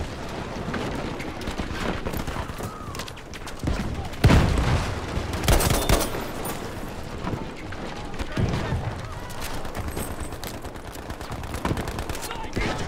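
Rapid gunfire bursts from a Battlefield V match crackle through a busy, noisy mix, with a sharp louder volley partway through and scattered shots around it, while a player talks over the action.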